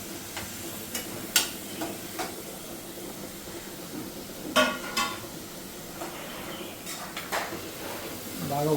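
Onions, green chillies and tomatoes fry in a pan, giving a soft, steady sizzle broken by sharp clinks and scrapes of a spoon stirring against metal.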